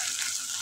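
Onion and tomato fry together in a pan, a brief, steady, close hiss of sizzling oil.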